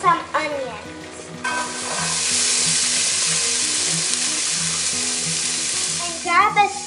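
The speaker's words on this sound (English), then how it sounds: "we're going to put in some olive oil on the pan that's over medium-high heat. And now we're going to add in some onions." Onions hit hot olive oil in a pan over medium-high heat and burst into a loud, even, close sizzle that holds steady, with light music playing underneath and a few clatters at the start and end.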